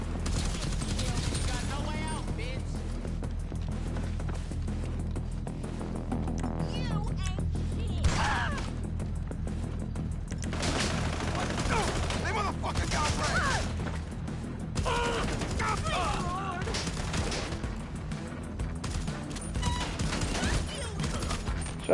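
Heavy rifle fire in GTA Online crackles in repeated bursts and single shots across a dense, noisy game soundscape, fairly loud and steady throughout with a low background hum.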